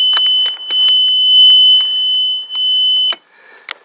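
A loud electronic alarm from the dashboard of a 2007 Monterey 180FS boat beeps continuously, with a steady high tone and rapid chirping pulses, cutting off abruptly near the end.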